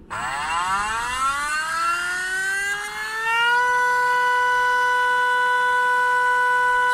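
An SMC LowRider 13.5T brushless RC motor, run at 7.9 volts for an RPM test, spins up with a rising high-pitched whine that climbs and then holds a steady, loud, close tone.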